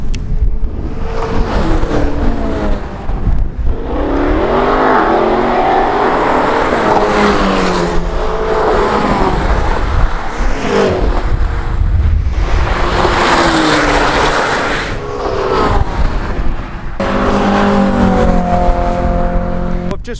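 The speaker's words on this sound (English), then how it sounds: "watch the first set of track day afternoon cars go past" Track day cars, among them a Porsche 918 and a Ferrari California, roar past one after another, engines rising and falling as each car approaches and recedes, with wind buffeting the microphone throughout.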